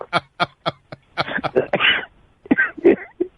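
A person coughing and clearing the throat, a run of short sharp bursts followed by rougher, longer hacking, close and loud.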